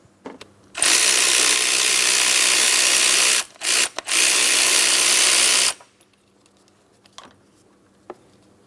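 A 15mm socket on a ratchet or power driver loosens an engine mount bracket bolt on a 2004-2008 Pontiac Grand Prix, giving a loud, continuous buzzing whir for several seconds with a brief break, followed by faint clicks.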